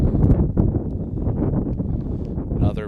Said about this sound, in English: Another big gust of wind comes through the ballpark.